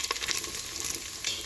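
Crispy bacon frying in a pan and being stirred, giving a soft, continuous sizzle with light scraping ticks, fairly quiet and close.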